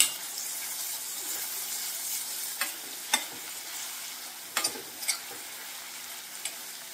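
Chopped onions sizzle steadily in a hot pan during the cooking of a gongura meal maker curry, with a few sharp scraping clicks from stirring scattered through the soft frying hiss.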